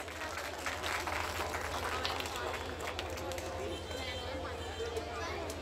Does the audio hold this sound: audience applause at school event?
yes